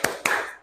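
Two sharp, close hand claps about a quarter second apart, part of a spirit-clap chant led in a classroom with schoolchildren.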